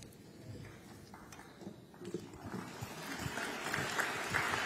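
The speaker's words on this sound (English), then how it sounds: "So the guy clapping wasn't because he liked it, it's because he wanted us out of the room." Scattered applause from a small group at a climate summit press event, rising from sparse claps to steadier, fuller clapping with a low crowd murmur and shuffling underneath.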